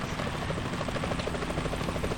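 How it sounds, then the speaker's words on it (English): Helicopter from the video game Metal Gear Solid 2 flying nearby, a steady loud rotor chop with pulsing beats and engine drone throughout, no voices. "Is that a chopper I just heard?"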